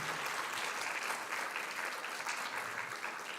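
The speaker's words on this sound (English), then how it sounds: "I'm going to applaud for her." An awards day audience applauds steadily for about three and a half seconds, a dense, even wash of many hands clapping at moderate distance, with no voices over it.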